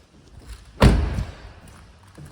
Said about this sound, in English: Opening the tailgate on the Paceman reveals a good sized boot there